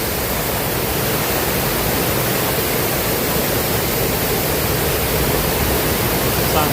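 A waterfall near Nelson, New Zealand, at sunset in light rain roars as a constant, dense rush of water, steady and unbroken throughout.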